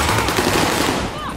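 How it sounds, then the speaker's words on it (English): Sustained automatic gunfire from a Call of Duty: Modern Warfare match, dense overlapping bursts filling the clip at steady loudness, with a faint voice underneath. "they're all shooting each other"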